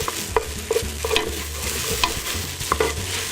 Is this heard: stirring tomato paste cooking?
yes